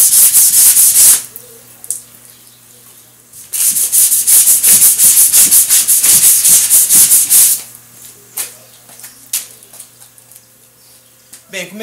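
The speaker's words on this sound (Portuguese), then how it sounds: "comecei a lixar aqui com um taco grande de meia folha" Hand sanding of primer on a rounded Renault Duster body panel with a large half-sheet sanding block, heard as bursts of close rough rubbing strokes, a long steady run in the middle and fainter scattered strokes after.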